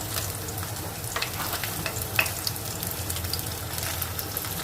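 Black gram dal and mustard seeds sizzle steadily in hot oil, a continuous close frying crackle with scattered sharper pops throughout.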